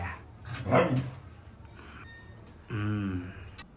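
A dog barks close by, with a couple of short yips and a whining tone between them, against light background noise.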